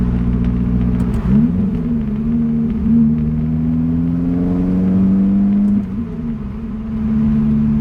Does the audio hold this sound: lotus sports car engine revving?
yes